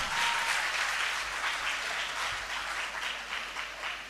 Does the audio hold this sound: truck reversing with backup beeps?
no